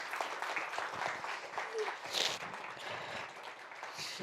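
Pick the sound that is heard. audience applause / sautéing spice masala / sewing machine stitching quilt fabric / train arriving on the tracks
audience applause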